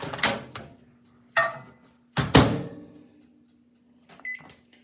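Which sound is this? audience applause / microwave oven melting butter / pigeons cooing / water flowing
microwave oven melting butter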